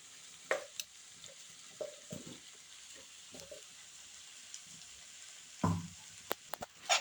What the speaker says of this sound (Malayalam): ഇനി ഈ അരപ്പ് കഷ്ണത്തിൽ നല്ലതുപോലെ ഇളക്കി കൊടുക്കാം.